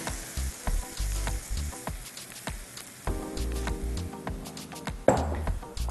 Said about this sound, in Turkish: Yumurtamızı içerisine döküyoruz.